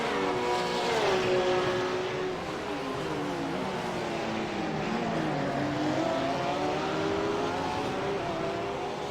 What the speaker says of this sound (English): Porsches are not known for being able to take the curbs like that, but he is hitting them hard this morning